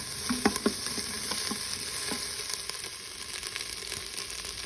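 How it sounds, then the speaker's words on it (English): Vegetables for a plant-based tortilla soup sauté in an Instant Pot, giving a steady sizzle with a few sharp stirring clicks near the start, close and moderately loud, without speech. "I'm just gonna continue to saute this."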